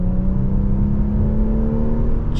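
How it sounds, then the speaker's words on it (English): A 2023 Infiniti Q50 AWD with a twin-turbo V6 in sport mode accelerates hard out of a turn, its engine note droning loud and steady from inside the cabin, with no talk over it. "Accelerating out the turn."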